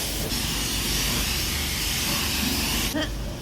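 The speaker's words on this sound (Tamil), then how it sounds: "ஃபஸ்ட்டு ஜெட் வாட்டர் ஸ்ப்ரே வச்சு ஃபுல்லாக எல்லாத்தையும் க்ளீன் பண்ணிவிட்டு" High-pressure jet water spray at a car wash, a continuous loud broadband hiss close by, with a brief spurt near the end.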